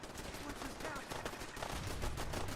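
Rapid gunfire in Fallout 4, a dense continuous burst of loud overlapping shots with no pauses, filling the whole stretch.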